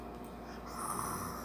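A young child imitates a grandmother's snoring with rough, snorting breaths, a steady close-up rasp that grows slightly louder partway through, with no speech.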